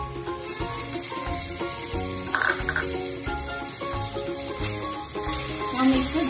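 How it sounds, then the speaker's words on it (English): Onions with ginger garlic paste stir-fry in a pan, giving a continuous sizzle under repeated rhythmic scraping and clanking of a spatula against the metal. "Now stir fry it. Again fry the onions till golden brown."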